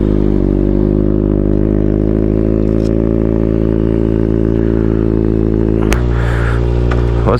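A 2019 Kawasaki ZX6R Ninja motorcycle idles through its exhaust, a loud, close, steady mechanical drone that holds throughout, with a brief blip near the end.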